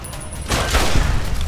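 A single sharp gunshot in the video game Fallout: New Vegas bursts out, followed by a rumbling, crackling tail that lingers for about a second.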